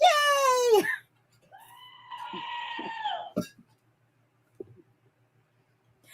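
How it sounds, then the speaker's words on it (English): A screaming goat toy lets out a loud, wavering bleat, then a shorter strained cry, followed by a few faint clicks and quiet gaps. "did I tell you I got my own screaming goat?"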